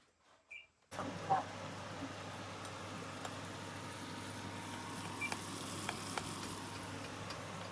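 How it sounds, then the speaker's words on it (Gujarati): Urad dal tempered in hot oil in a home kitchen, a sudden loud sizzle that starts after a second of quiet and then holds as a steady crackling hiss with small pops. "અડદની દાળ વઘારે છે વઘારેલી અડદની દાળ હો"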